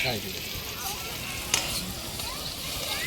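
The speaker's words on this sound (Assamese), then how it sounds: "এবাৰ বেঙেনা ভাজি দেই।" Brinjal slices fry in a pan at an outdoor picnic at Chandubi, giving a steady, close sizzle with stirring scrapes and a brief sharp clink midway. Faint voices sit low underneath.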